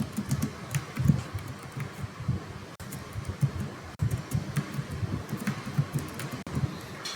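Rapid typing on a computer keyboard, close and quiet, a steady patter of key clicks with a few louder taps and no talk.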